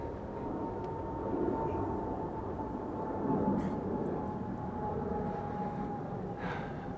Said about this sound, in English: There's planes overhead.